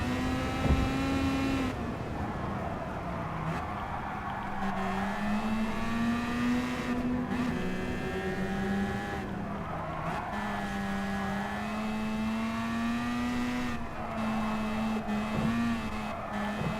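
A race car engine in Gran Turismo Sport on PS4 Pro drones loudly and steadily, its pitch sliding up and down through shifts, with rumbling over rough track surfaces and no talk.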